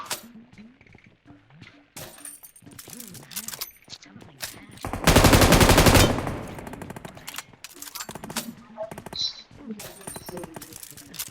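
Gunfire in a video game: scattered shots, then a loud burst of rapid automatic fire lasting about a second, with people talking throughout.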